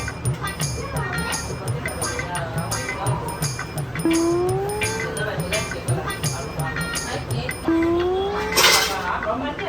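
Metal cooking pot clanks and scrapes against the stove and utensils in a home kitchen while potato chips are being fried, with repeated clinks throughout and people talking over it.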